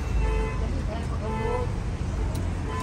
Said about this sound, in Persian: کسی که اعصاب نداره نمیدونم بوقش رو یه سره کرده